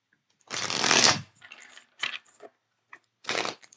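A deck of tarot cards is shuffled by hand in close, crisp riffling bursts, one long burst followed by several shorter ones with quiet gaps between.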